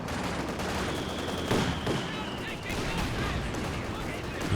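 Dense, continuous battle noise of gunfire and artillery from Company of Heroes 2, where Soviet infantry support guns fire on enemy team weapons, a loud, crackling wash with a few stronger blasts.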